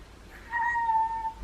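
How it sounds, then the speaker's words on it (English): A feral cat lets out a single clear, drawn-out meow at fairly close range, rising and then trailing off over about a second against quiet surroundings. "I just walked in here because I heard meowing. A lot of meowing."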